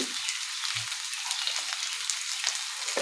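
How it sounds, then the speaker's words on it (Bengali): Masala frying in a pan during home cooking, a steady close hiss and sizzle running throughout with a few soft stirring scrapes, no voices. "ভালো করে আমি কষিয়ে নিচ্ছি।"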